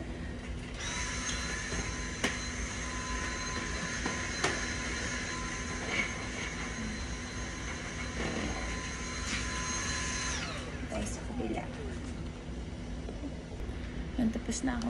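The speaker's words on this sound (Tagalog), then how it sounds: "Tapos na ako mag-vacuum." A Dyson vacuum cleaner running steadily while vacuuming out a car, a loud continuous whine with bumps and knocks from the nozzle, then cutting off near the end, leaving quieter handling noises.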